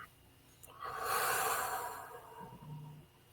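A slow, deep exhale during a guided breathing exercise, a soft airy breath that swells and fades close to the microphone in a quiet room.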